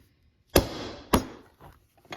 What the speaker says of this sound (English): I've got a a BHT 1 1/4 inch round end punch I'm going to use here.